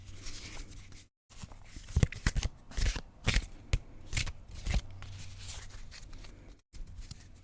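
Tarot cards being shuffled up close, a run of crisp riffling bursts and soft slaps with brief pauses between, no talking.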